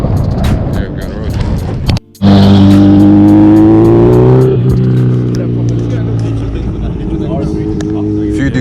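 Ducati motorcycles pass close on a Lake District road, their engines rising in a loud, climbing whine before easing to a steadier drone, with voices nearby.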